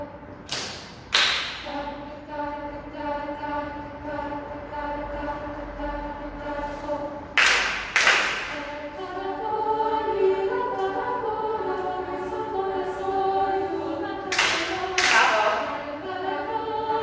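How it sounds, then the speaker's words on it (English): Children's choir clapping in unison, a few sharp claps together at the start, middle and end, each followed by a lingering ringing tone in the room; no one talks. "The claps were perfect in unison when you were hearing the metronome."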